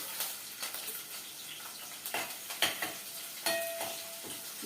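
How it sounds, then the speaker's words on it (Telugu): Four large cut green chillies fry in tempering oil for a dried prawn curry, giving a continuous crackling sizzle broken by irregular stirring scrapes and light clinks of a utensil against the pan. "ఇవి వేగుతున్నాయండి పచ్చిమిరపకాయలు"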